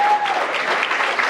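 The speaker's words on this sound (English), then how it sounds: "Another round of applause for Tom." An award-gala audience applauding a winner, a brief burst of dense, even clapping from a crowd, fairly loud and continuous through its short length.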